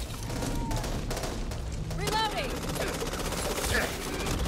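Rapid automatic gunfire in the zombie shooter Back 4 Blood, sharp bursts of assault rifle shots crackling in dense clusters, loud and close, mixed with game sounds and voices talking.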